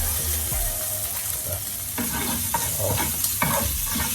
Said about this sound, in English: I'll get right back to you guys when I'm finished sauteing all my jerk shrimps